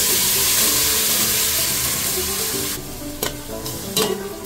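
Chicken pieces sizzle loudly in a pan with onion and ginger for a chicken tinola, a close, steady frying hiss with a few clinks and scrapes near the end as the pieces settle.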